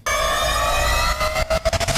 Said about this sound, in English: so riser into downer,